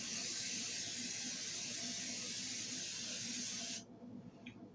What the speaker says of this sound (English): I would recommend putting some cooking spray on this little frying pan here.